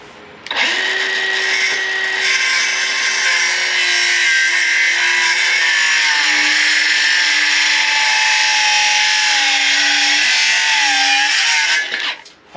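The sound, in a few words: cordless M12 power saw cutting a wooden post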